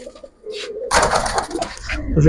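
Giribaj and other fancy pigeons at a farm, with a soft low cooing near the start followed by louder rustling, flapping and scattered bird calls close by, a voice faintly in the background.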